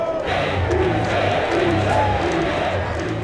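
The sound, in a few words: large crowd of rival football fans at Newcastle Central Station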